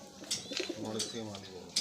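A male pigeon of the Kalasabuj or Kaldoma breeds gives a short, close run of low rolling coos that builds in the middle, with brief sharper noises around it.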